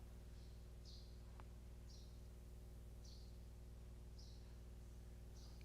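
Birdsong drifting in from outdoors during an indoor church sermon, short chirps repeating about once a second, faint and distant over a steady hum.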